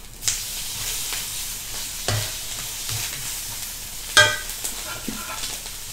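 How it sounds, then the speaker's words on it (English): Prawns fry and sizzle in a pan for mee siam kering, a steady close hiss broken by several louder scraping stirs of a utensil against the pan. "let's throw in the prawns."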